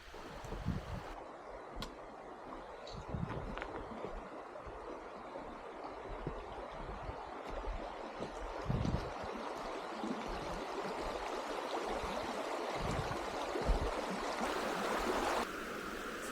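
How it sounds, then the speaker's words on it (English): A shallow river runs confined to a single channel during a dry spell, giving a steady, close, continuous rush and trickle of water, broadband and even throughout, with no voices. "the river is kind of confined just to this one channel here"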